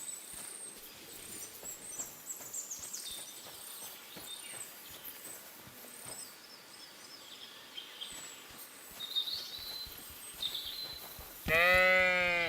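Sheep in Kingdom Come Deliverance II give a loud, wavering bleat near the end, after quiet game ambience with faint sounds.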